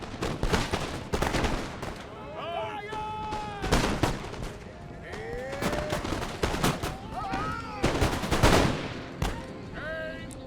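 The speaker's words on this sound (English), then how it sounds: "Oh, that sounded like round shot. No, it's canister shot." Cannons firing canister shot in an Empire: Total War naval or land battle, repeated sharp booming volleys in irregular clusters amid background cries and battle noise, loud and close.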